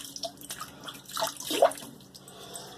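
Water splashes and drips as a face is wetted before shaving, a few soft close splashes with trickling and dripping between them.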